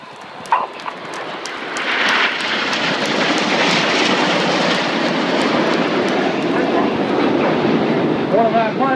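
Red Arrows jets flying in Lancaster bomber formation at an air display, a loud, broad roaring rumble that swells in and holds steady overhead, with a commentator talking over it.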